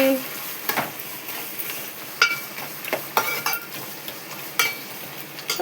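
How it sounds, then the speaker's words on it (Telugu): Crab curry cooks in a pan with a soft sizzle under repeated sharp spoon clinks and stirring scrapes against the metal, close and intermittent. "వేడి పీతల కర్రీ వండుతున్నాను"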